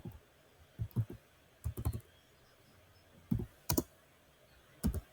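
A computer keyboard types a terminal command in short bursts of sharp clicks, with faint key taps scattered among quiet gaps in a still room.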